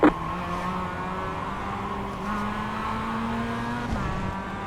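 Mazda MX-5 race car engine in iRacing on the Tsukuba circuit, a steady droning engine note holding near-constant revs with a brief pitch rise and a dip near the end, other cars faintly audible around it, no talk.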